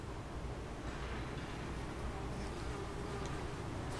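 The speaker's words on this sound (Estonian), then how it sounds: "Fucking herilane!" A wasp buzzes faintly near a covered outdoor patio table, a steady, continuous drone that runs throughout, blended into a hissy background with no talking.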